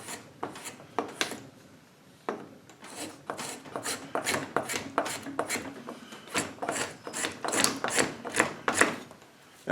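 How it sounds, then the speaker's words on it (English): A chamfer scraper breaking the edge of a piece of wood, a series of quick rasping strokes in an uneven rhythm, close and crisp, with no talking. "This is the chamfer tool."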